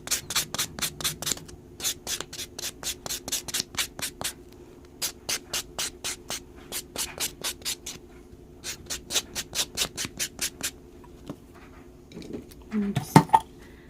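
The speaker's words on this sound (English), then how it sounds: "then you can buff your nail nice and smooth" A file buffs a hard gel nail smooth in quick, even back-and-forth strokes, close and crisp, pausing briefly mid-way and ending with a few louder knocks.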